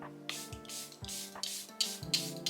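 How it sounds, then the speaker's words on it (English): Several quick misty spritzes of makeup setting spray from a small bottle hiss in close succession over faint background music. "I like to go in with the setting spray"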